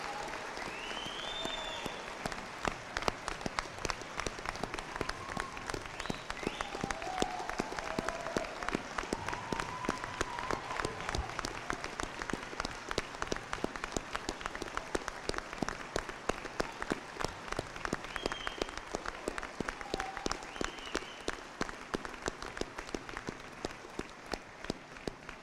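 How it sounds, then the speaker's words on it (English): Sustained audience applause at a community salute-to-service ceremony honoring new military enlistees, a dense, steady wash of many hands clapping for a long stretch. "Let's give them all a huge round of applause."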